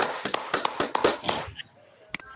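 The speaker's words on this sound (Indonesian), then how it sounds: "Beri tepuk tangan Bapak Ibu untuk Pak Johan Wahyudi" An audience applauds Pak Johan Wahyudi at a teacher peer-teaching session, a short burst of scattered hand claps that thins out and stops, leaving a few stray claps.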